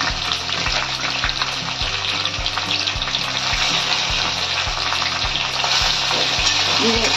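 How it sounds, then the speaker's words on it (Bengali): Chopped tomatoes sautéing in a pan give a steady, loud frying sizzle with regular scraping strokes of a spatula throughout, no voices. "এইগুলো খুব সুন্দর করে কষাতে হবে।"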